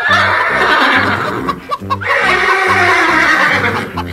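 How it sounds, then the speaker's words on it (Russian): An animated horse in a farm pen whinnies loudly several times in a row. The neighs come in repeated, rhythmic bursts close to the listener, with no talk over them. "Это всего лишь лошадка и курочка в одном загоне."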